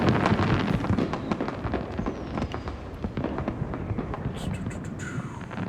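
Fireworks detonating in the video game Hitman, a dense barrage of rapid crackling bursts and pops over a steady roar, continuous and fairly loud for several seconds, with sharper distant crackles near the end.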